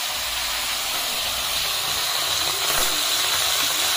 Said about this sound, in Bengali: মাছের তেলে মাছ ভাজা, কড়াইতে একদম তেল কম দিয়েছি